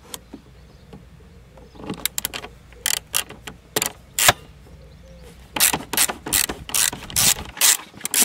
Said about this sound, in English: I could get at it with a 1/4-inch bit socket and long extension bar